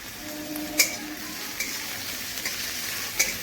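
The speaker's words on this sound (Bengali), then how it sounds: "দুটোকে একসাথে হালকা লাল করে ভেজে নেবেন" Chopped onion and garlic frying together in a pan until lightly browned, a steady soft sizzle with occasional stirring clinks near the start and end, no voices.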